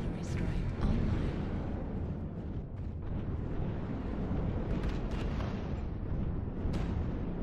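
Artillery strike in the video game MechWarrior Online, heavy rumbling explosions rolling continuously at loud level, a deep roaring barrage with bursts on top and some radio-style talk beneath.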